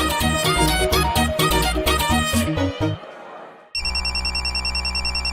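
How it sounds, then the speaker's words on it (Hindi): Dramatic music fades out, then a telephone ringtone starts and repeats in a steady electronic pattern as the call goes unanswered in a Hindi TV drama scene. "भाई वो फोन नहीं उठा रहा है कोई।"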